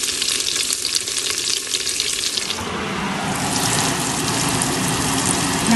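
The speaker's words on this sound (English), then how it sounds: "my stuffed eggplants, and I'm going to fry them for a bit" Stuffed eggplants frying in hot oil with curry leaves, a loud, steady close sizzle that swells and grows denser partway through, with no talking.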